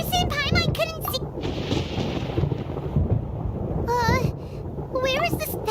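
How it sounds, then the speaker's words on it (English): A thunderstorm in Genshin Impact, with thunder rumbling and rain-like noise that fill the whole scene while character voices speak over the storm at the start and end. "Thunder and lightning can be quite frightening"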